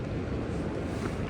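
Strong wind roars steadily outside a covered tent while camping in the Rocky Mountains in spring, a low continuous rushing buffet with no voices.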